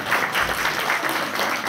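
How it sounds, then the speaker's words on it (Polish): Audience applause for the conductor at a brass band concert in Pinczyn, a continuous dense patter of clapping from a crowd, moderately loud and steady across the short span. "oklaski, oklaski dla naszego dyrygenta."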